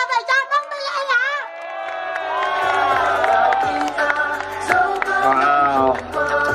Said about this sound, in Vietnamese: Một tràng pháo tay cho tất cả chúng ta và cho Đông Tây Len ạ